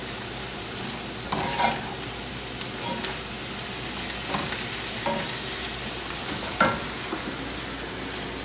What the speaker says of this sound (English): Now I'm going to add the rice to the protein. I'm just mixing it through.